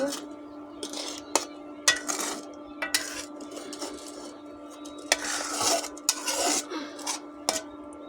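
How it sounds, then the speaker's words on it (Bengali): A spoon stirs mustard hilsa curry in a pot, making intermittent metallic scrapes and knocks in uneven bursts against a soft, bubbling background. "নেড়ে দেব"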